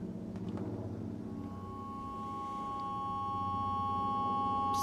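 Two high, steady synthesizer tones made by frequency modulation sound together as one summed output, pure and sustained, swelling gradually louder over a low murmur.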